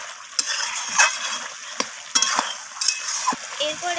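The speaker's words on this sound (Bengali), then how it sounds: "রসুনটা দিয়ে আমি আবারও কষিয়ে নিচ্ছি" Garlic paste sautéed with chicken in a pan, a steady sizzling hiss broken by several sharp scrapes of a stirring spoon, close and fairly loud with no voices.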